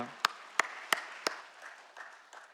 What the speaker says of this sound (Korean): 우리 하나님께 영광과 감사의 박수 올려드리며